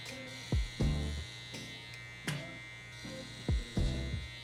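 Electric hair clippers hum steadily during a clipper-over-comb haircut, with a faint buzz and several soft clicks and scrapes as the blade passes the comb.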